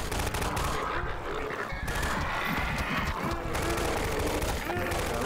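Sustained gunfire rages as Combine soldiers battle zombies in Half-Life 2, with dense overlapping bursts of automatic fire and shots filling the whole stretch loudly without pause.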